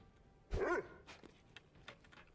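A dog in the video game Necromunda: Hired Gun gives a single short, quiet bark, followed by faint game ambience.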